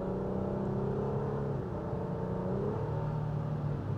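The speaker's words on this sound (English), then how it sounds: "Let's just give it a little bit of gas." A 2023 Honda Pilot Elite accelerates steadily on the road, giving a continuous engine hum and whir with a slowly rising tone under constant road noise.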